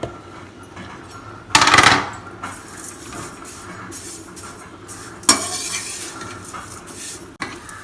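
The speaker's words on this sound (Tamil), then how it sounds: "இப்போ நம்ம சென்னாகுனியை போட்டு பொன்னிறமாக இதையும் வறுத்துக்கணும்." Dried small shrimp (chennakuni) roasting in a pan until golden, giving a soft dry sizzle with scraping stirs, two louder bursts of stirring and a brief clatter near the end, no talk.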